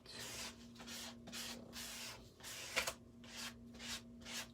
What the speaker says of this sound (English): you can use a card, just kind of scrape it